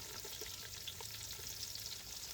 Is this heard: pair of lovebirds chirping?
no